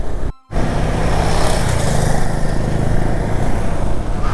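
A KTM Adventure 390 motorcycle cruises along a road, its engine a loud, steady drone with wind rush after a brief cutout at the start, heard from the rider's position and without talk.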